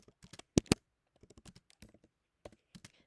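Keystrokes on a computer keyboard as a podcast description is typed, coming in short irregular bursts of clicks with two louder key strikes, close by and with no talking.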